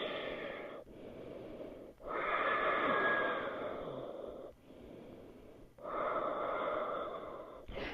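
Slow, deep breathing during a yoga pose: long audible inhales and exhales in a steady rhythm, close to the microphone, with no talking.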